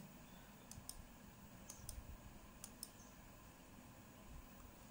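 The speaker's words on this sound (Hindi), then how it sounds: "आपको इस पर राइट क्लिक करना है माउस से" Several sharp computer mouse clicks in close pairs, made while working on a Windows 10 laptop, sounding near and crisp over a steady low hiss.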